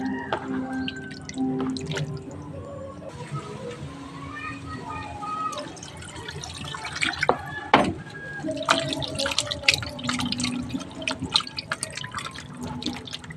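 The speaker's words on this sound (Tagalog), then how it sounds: "So, papangalawahan pa natin ng hugas dahil" Running and dripping water as raw pork is rinsed a second time in a kitchen sink for dinuguan, with scattered drips and splashes alongside handling noises and a voice speaking in the background.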